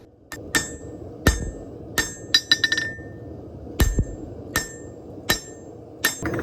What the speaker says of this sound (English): I'm using the really flat face of this hammer, and I'm using the corner of the anvil